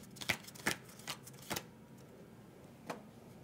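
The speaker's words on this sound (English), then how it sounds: "let's shuffle up these cards and deal 5 of them out" Playing cards for the Sleeping Gods board game are shuffled and dealt, giving a few soft, quiet riffles and snapping flicks spaced irregularly in a hushed room.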